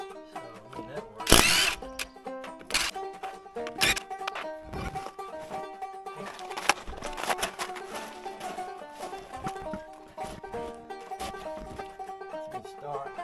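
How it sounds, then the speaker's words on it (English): A DeWalt 20 volt 1/4 inch cordless impact driver whirs in short bursts, with a sharp loud burst near the start followed by a few briefer runs and clattering handling noise. "This is my little DeWalt gun. This is one of those 20 volt. And it's a 1/4 inch."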